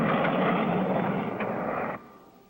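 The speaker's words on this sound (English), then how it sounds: "There goes the black jet again!" A black jet aircraft roars past in a 1959 Clutch Cargo cartoon, a loud rushing engine noise that holds briefly and then drops off sharply as it passes.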